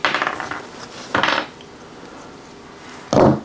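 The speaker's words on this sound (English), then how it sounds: "I gotta take these handle scales off on this knife, and it just requires a couple of Allen keys." Metal tools clink while walnut handle scales come off a camp knife with a couple of Allen keys: short rattling taps, a few close bursts separated by quiet pauses.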